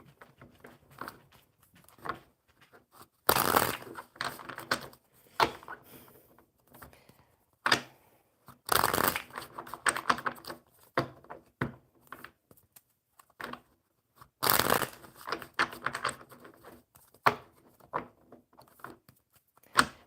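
A tarot deck being shuffled at close range, giving irregular clusters of soft riffles, taps and card slaps with quiet gaps between them, moderately loud and with no voices.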